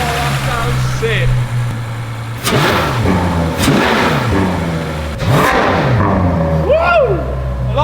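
A Ferrari 812 V12 being rebuilt after a wreck is revved from behind, sharp loud blips rising and falling several times over a steady idle, with people talking and whooping near the car.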